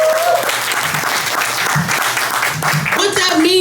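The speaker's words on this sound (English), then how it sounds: "Please clap it up for them." Audience applause fills a small cafe creamery, steady and close throughout, with a few voices and whoops rising over the clapping near the end.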